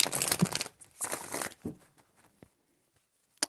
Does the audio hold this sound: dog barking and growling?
no